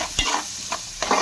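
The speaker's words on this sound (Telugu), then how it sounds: "చూడండి ఎట్లా వేగుతున్నాయి." Tempering spices sizzle hard in hot oil in a pan while making tomato curry, a dense, continuous frying hiss broken by several sharp stirring scrapes of a spoon against the pan.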